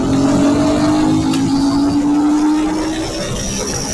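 A motorcycle engine revs hard at high rpm on a ride to Shamirpet Lake, a loud, steady whine that climbs slowly in pitch and stays close throughout, with wind noise underneath.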